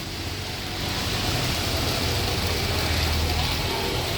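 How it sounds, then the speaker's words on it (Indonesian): Steady rain falls during a trip in Probolinggo, a continuous broadband hiss with low rumble underneath, as if heard from inside a vehicle, holding even and fairly loud throughout. "Cuaca hujan, saudara, cuaca hujan."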